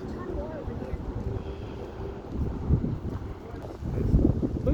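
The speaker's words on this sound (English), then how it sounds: "I hear the boat coming too." A boat approaching across the water at a Portofino Bay harbor, a low rumbling engine-and-water wash building under steady wind noise, growing louder toward the end.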